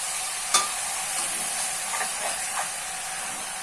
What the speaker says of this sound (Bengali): হাতে একটু জাস্ট ওপর মিক্স করে দেবো